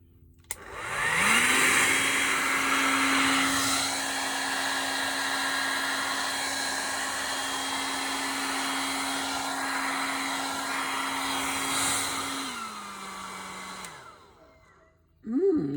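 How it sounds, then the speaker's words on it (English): A hair dryer switches on and runs steadily at close range for about thirteen seconds with a constant whine and airy rush, then spins down and cuts off. "Hairdryer. Oh, this is going to be fun."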